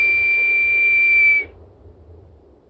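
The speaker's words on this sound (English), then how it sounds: "we use this eagle bone whistle here to pierce the heavens so that you might hear our words" An eagle bone whistle blown during a ceremony gives one sustained, piercing high note lasting over a second, then cuts off abruptly into quiet room tone.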